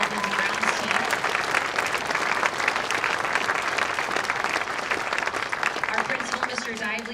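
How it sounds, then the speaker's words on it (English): Sustained audience applause at a junior high sixth-grade winter band concert, a thick, even clatter of many hands lasting several seconds, with faint voices mixed in. "can we please give a round of applause for our Buildings and Grounds team"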